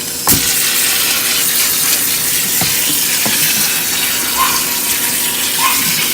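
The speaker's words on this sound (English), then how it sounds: "we're just gonna add some cold water" Cold water gushes and splashes into a pot of cooked fettuccine pasta in a steady pour, broken by a few sharp clanks of metal.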